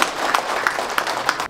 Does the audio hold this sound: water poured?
no